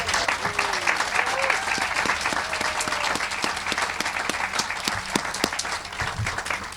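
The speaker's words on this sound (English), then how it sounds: "I really do want to ask for a round of applause for my amazing staff." Sustained, dense applause from a crowd at the FeedMore WNY groundbreaking, honoring the staff, steady and even throughout with faint voices underneath.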